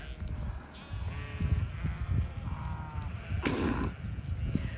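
A bred ewe on a farm gives several wavering bleats, moderately close, amid faint background voices and shuffling, with a short burst of rustling noise partway through.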